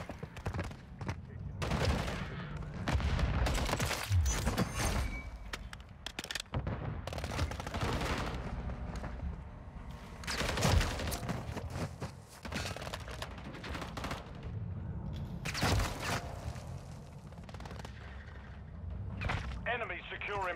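DG gun firing in Modern Warfare 3, dense bursts of rapid gunfire that come and go in rough clusters, close and loud, with other battle noise mixed in and a voice talking now and then.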